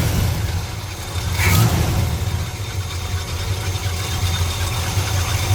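A 1967 Chevrolet Malibu's 327 V8 with headers and modified exhaust starts and rumbles at a steady idle, low and continuous, with a brief rise in revs near the start before settling back.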